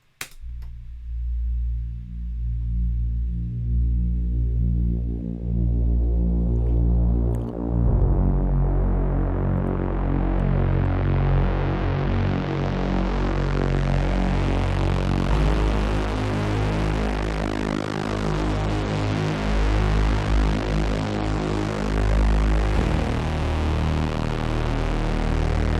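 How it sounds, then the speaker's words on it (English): A very bassy synth drone pad from a techno track in Ableton Live swells steadily, its brightness gradually opening up over about twenty-five seconds, loud and sustained with a slow throbbing pulse and no voices. "I like to call it drone, that I use for the break, which is pretty much like a very bassy pad."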